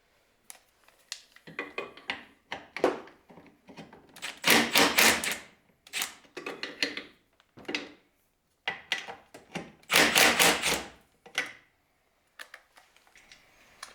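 Close, bursty clicking and ratcheting of a wrench working brake line fittings loose on a Jeep LJ, in short uneven spurts separated by quiet pauses.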